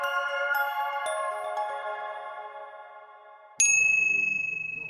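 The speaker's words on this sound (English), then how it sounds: "Leveraging that capability, it manufactures English handbells." Japanese-made English handbells ring out with sustained, bright, overlapping tones that slowly decay, then a fresh louder bell strike lands near the end, close and clear with no talk.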